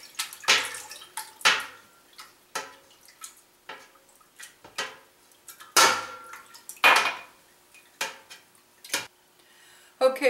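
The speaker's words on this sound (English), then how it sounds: "So I'm going to sort of do it like this, moving this ladle up and down." A metal ladle clinks and knocks against a pot as it moves up and down through warm milk while rennet is stirred in for homemade mozzarella, making sharp irregular taps with small liquid sloshes in between.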